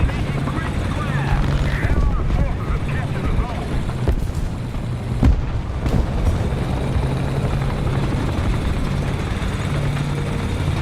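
UH-1 Huey helicopter in the War Thunder video game, a steady loud rotor and engine drone running throughout with a few brief sharp bursts over it.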